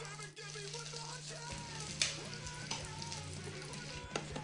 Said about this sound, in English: you're going to hear them start to sizzle